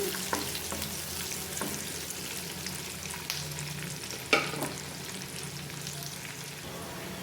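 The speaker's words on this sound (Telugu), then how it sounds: "ఇవి గోల్డెన్ కలర్ వచ్చేదాకా ఫ్రై చేసుకోవాలి." Onions frying in a pan for chicken sherva, a steady broadband sizzle with occasional utensil scrapes and one sharper clink, close and continuous with no talking.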